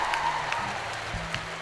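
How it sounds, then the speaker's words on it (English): Festival concert crowd at Paléo in Nyon applauds, a moderate, diffuse spread of clapping with some cheering and a few sharper claps standing out. "un tonnerre d'applaudissements"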